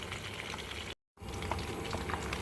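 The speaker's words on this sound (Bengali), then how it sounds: "ভালো করে লাল করে ভেজে নিচ্ছি মাছগুলো" Small mola fish frying in hot oil in a pan for a curry, a steady close bubbling sizzle broken by a brief cut of silence before the frying resumes at the same level.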